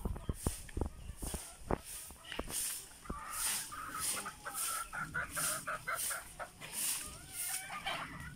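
Chickens cluck repeatedly at close range, with sharp clicking taps and rustling mixed in, and a faint bird call now and then.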